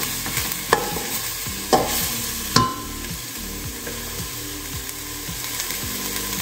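Semolina soup is stirred in a pot, a spoon scraping steadily against the bottom with a few louder knocks early on, over a constant hiss and low rhythmic mechanical rumble.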